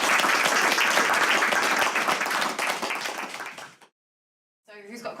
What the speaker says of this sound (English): round of applause to the guys.